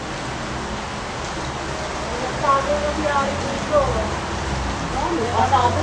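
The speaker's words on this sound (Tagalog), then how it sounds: "Ang lakas ng ulan, wow!" Heavy rain pours steadily as a broad, continuous wash, with brief brighter spatters over the hiss and a voice speaking over the downpour.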